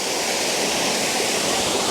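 A waterfall, filmed from low down close to the falls, gives a loud, unbroken roar of rushing water with no other sounds.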